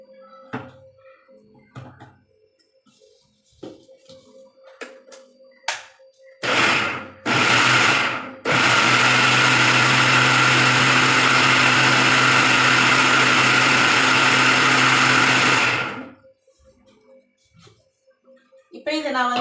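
A mixer grinder blending basbousa batter gives two short loud pulses, then whirs continuously at full volume for about seven seconds before cutting off, with quiet kitchen clatter before and after.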